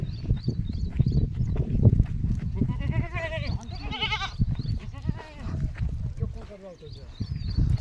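A man calls out and talks while goats bleat intermittently nearby, their quavering cries overlapping his voice amid shuffling noise.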